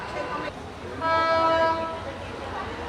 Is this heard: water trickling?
no